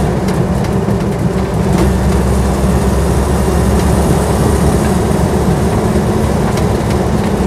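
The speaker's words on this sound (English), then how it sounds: "Some tyre noise. It's fitted with sort of military spec tyres, which are quite noisy at speed." Military-spec tyres on a Land Rover Series 1 86-inch roar loudly and steadily at speed, a continuous low rumble blended with engine drone from inside the cab, with no talking.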